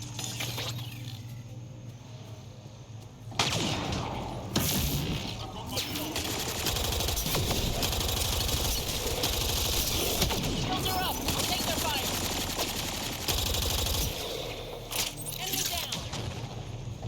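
Sustained gunfire from the Mass Effect: Andromeda video game, with rapid automatic bursts and sharp shots that come in waves, loud and dense for most of the stretch after a quieter opening.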